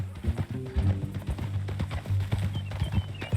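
Horse hooves clip-clop in Red Dead Redemption 2, a close, steady rhythmic beat of footfalls with low snorts and tack noise running throughout, mostly alone with no talk.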